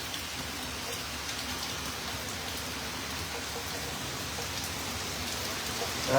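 Heavy rain pours down on a New York street, a steady, dense hiss of drops that holds an even level throughout, with no voices over it.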